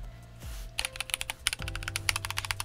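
Fast, steady typing on a Redragon K641 Pro Shaco aluminum 65% mechanical keyboard with Cherry-profile keycaps, a rapid run of sharp clacky keystrokes with slight ping, close up after a brief thump and pause.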